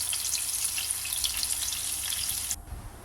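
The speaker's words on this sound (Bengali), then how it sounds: "লো থেকে মিডিয়াম আঁচে মাছগুলো ভেজে নেবো হালকা করে" Hilsa fish frying in oil over low to medium heat, a dense continuous sizzle that drops away abruptly near the end, leaving a faint low rumble.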